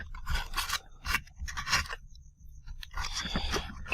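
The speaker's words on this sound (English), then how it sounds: "let's fold these flaps down" Paper flaps on a cardboard skeleton model are folded and bent down by hand, making close, crisp bursts of scraping and crinkling with short quiet gaps between them.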